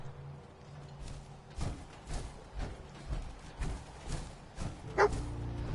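Dogmeat, the German shepherd companion in Fallout 4 on Far Harbor, gives a series of evenly spaced barks and yips, moderately close, over faint game ambience.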